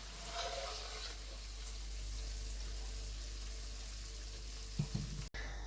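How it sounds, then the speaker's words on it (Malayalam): Chicken frying in oil in a pan for chicken pasta: a steady, soft sizzle with a low hum underneath, a couple of brief knocks near the end, and no talk. "അപ്പോൾ ചിക്കൻ ഒരു മൈൽഡ് ഫ്രൈ ആയിട്ടുണ്ട്"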